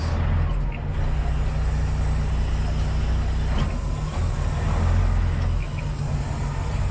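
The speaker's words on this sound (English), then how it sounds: "this truck's like pretty loud considering it has mufflers." Loud, steady rumble of a truck engine with mufflers idling and running, a deep continuous drone with no voices.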